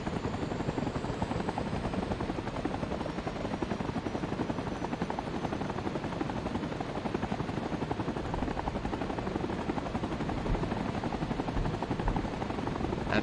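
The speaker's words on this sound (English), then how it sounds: "Please don't run to the attack helicopter." Attack helicopter in the Rising Storm 2 video game, a loud, steady rotor thump and engine roar that runs continuously and close throughout, with no speech over it.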